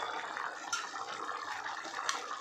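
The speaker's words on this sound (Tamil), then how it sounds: "கொஞ்சம் நான் நல்லெண்ணெய் ஊற்றிட்டு" Sesame oil is poured into a pot of dal rice, making a soft, steady, close trickle that lasts a couple of seconds at low volume.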